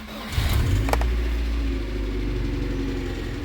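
A car engine cranks and catches with a brief rising rev, then settles into a steady rumbling idle, close and alone with no talk.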